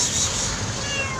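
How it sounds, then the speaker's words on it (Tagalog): A skittish stray cat living under a container van gives a single drawn-out meow, close and clear, with no voices over it. "napakailap ng pusa na yan"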